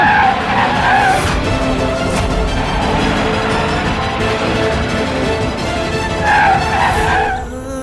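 A car with failed brakes skidding, its tires squealing loudly and continuously for several seconds with two sharp peaks of screeching and an engine roar beneath.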